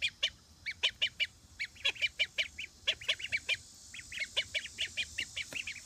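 A flock of ducks gives rapid, repeated honking calls in quick bursts, fairly faint and steady across the clip with no talking.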